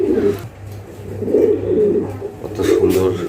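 Modena pigeons coo in low, repeated throaty rolls close by, with several overlapping bursts, while someone talks over them.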